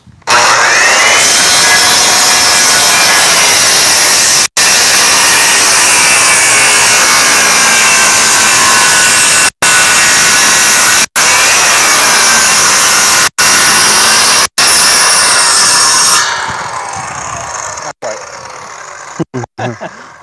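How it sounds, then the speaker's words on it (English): A wire brush scrubs gunk off wet wooden boards for pickup truck sideboards, a loud continuous harsh scraping that runs steadily with brief breaks, then fades to quieter rubbing near the end. "wire brush, you can clean up all the gunk."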